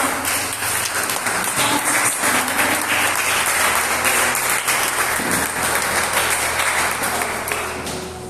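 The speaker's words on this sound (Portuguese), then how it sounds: "As palmas para essa palavra." Loud, sustained applause fills a church as the congregation claps together, a thick continuous roar of hands with a steady rhythmic texture that runs the full length before easing slightly at the end.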